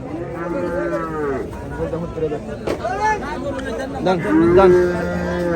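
Cattle moo loudly nearby at a livestock market in Comilla, Bangladesh, with long drawn-out lows over the busy chatter of a crowd.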